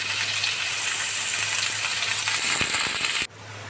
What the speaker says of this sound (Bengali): তো দেখুন পেঁয়াজটাকে আমি একটু লাল লাল করে ভেজে নিয়েছি।